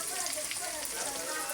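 Onion dropped into hot oil in a pan, already holding chili, garlic and ginger, gives a steady crackling sizzle, close and even for a brief moment with no voice.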